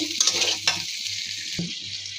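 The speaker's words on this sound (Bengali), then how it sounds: "চিংড়ি মাছটা ভেজে নেব" Prawns sizzle in a pan with onion stalks and sliced green chillies: a steady close frying hiss with stirring scrapes and a sharp knock against the pan near the end.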